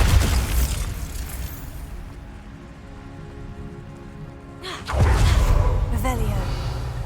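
A Bombarda blasting spell goes off in the video game Hogwarts Legacy, a loud burst that starts a noisy stretch partway through, over a steady bed of rain-like crackle with game voices heard.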